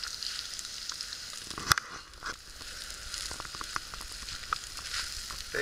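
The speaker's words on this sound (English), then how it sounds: "A couple of eggs frying." Eggs frying in a pan over campfire coals at a canoe campsite, a steady soft sizzle and crackle with a few sharper pops, fairly close.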